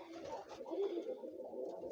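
Egyptian swift pigeons coo softly at close range, a low, throaty murmuring that rolls on and off for a couple of seconds with no voices over it.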